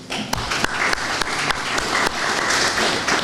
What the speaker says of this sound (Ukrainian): Давайте оплесками їм подякуємо.